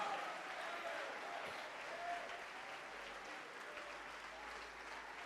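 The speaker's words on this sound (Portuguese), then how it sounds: "vamos aplaudir mais ao nome do Senhor" A church congregation keeps up steady, sustained applause that sounds moderately distant, with a faint voice underneath.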